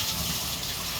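Water gushing and pouring steadily as mushrooms are drained through a strainer in a home kitchen, a continuous close splashing rush filling the whole moment.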